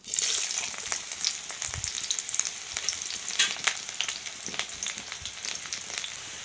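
Garlic, dried chilli and onion fry in hot oil in a kadai, giving a steady close sizzle with crackles and occasional stirring scrapes, with no talk.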